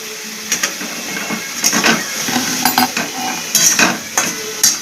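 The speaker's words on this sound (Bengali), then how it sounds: "এই দেখো এই যে দেখো মশলাটা কষানো হচ্ছে।" Spice paste with a little water is sautéed in a pan for fish roe curry. A spatula scrapes and taps in an irregular rhythm over a steady sizzle, close and fairly loud.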